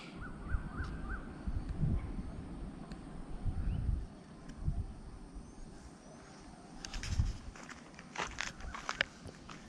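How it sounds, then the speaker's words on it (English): Crows caw outdoors at sunset amid rustling, crunching footsteps and scattered ambient noise, with a few brief chirps high above. "There are birds."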